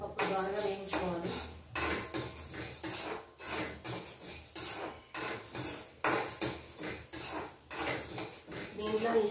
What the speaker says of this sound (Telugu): ఇప్పుడు ధనియాలు, శనగపప్పు, మినపప్పు బాగా వేయించుకోవాలి